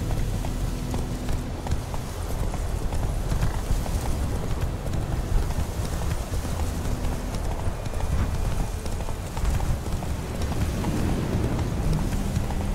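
Horse hooves clip-clop steadily through a run in The Witcher 3, a continuous, fairly loud galloping rhythm with a wind-like rush over the whole stretch.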